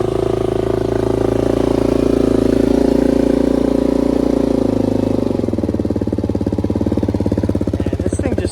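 A Kawasaki KFX400 ATV engine runs steadily after a carburetor clean and a new spark plug. It holds a strong, even idle up close, then drops to a lower, faster-pulsing rumble partway through.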